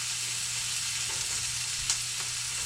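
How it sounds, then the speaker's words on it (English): Onions sizzle steadily in a frying pan while being stirred, a constant hissing fry with faint scraping clicks from the stirring. "Stir the onions up."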